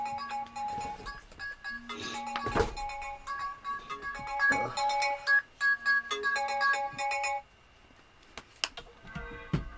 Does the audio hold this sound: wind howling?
no